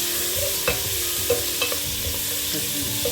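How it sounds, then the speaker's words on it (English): Sliced onions fry for a Flemish hutsepot stew, a steady dense sizzle with a few soft clicks of stirring, close and even with no voices. "And I'm just going to add my sliced onions."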